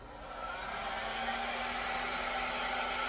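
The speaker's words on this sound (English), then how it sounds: "see if I can extend it a little bit with my hairdryer" A hairdryer switches on and blows a steady, even whoosh with a faint motor whine, aimed at wet paint on a painting, close and constant throughout.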